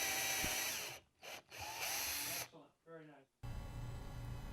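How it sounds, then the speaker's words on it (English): A power drill boring into wood whines loudly in several bursts, stopping and restarting, with quiet gaps between runs and a final steady grinding stretch. "Proper drilling depth is achieved when the stop has contacted the workpiece."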